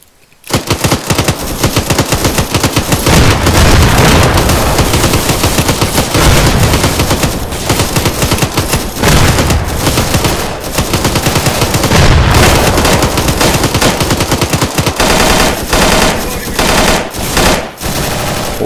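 Dense, loud, continuous gunfire and grenade blasts in a Vietnam-era MAC-V SOG video game battle, rapid automatic bursts packed together with heavy booms mixed in.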